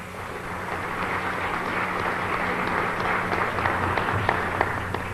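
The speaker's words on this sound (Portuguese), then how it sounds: "Faz favor de levantar para receber salva de palmas" A round of applause fills a legislative assembly ceremony honoring a new citizen in Minas Gerais, a steady dense wash of many hands clapping throughout with crowd murmur underneath.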